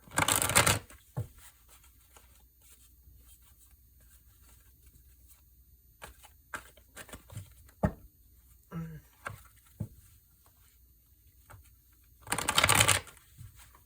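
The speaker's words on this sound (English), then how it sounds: "Let's do a riffle shuffle." Cards are riffle shuffled in two quick bursts of rapid fluttering, one at the start and one near the end, with soft card taps and handling clicks between.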